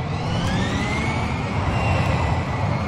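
A steady broadband roar of an airplane with a faint rising whine, continuous and fairly loud throughout, no voices.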